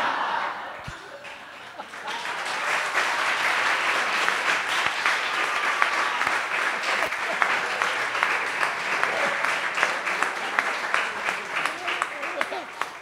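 An audience applauds at a public conversation with stage director Amir Haddad. Steady, fairly loud clapping swells after a brief quieter start and holds to the end.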